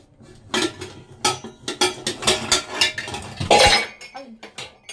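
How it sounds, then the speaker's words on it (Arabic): A frying pan and metal utensils clink and clatter during cooking, a rapid series of sharp close knocks and rings with a brief scraping rattle, while a voice talks quietly underneath. "هنجيب الطاسه بتاعتنا الجميله"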